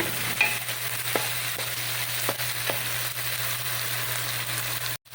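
Mung bean dish being mixed in a frying pan: a continuous sizzle with a low hum beneath, broken by a few soft clicks of a utensil against the pan.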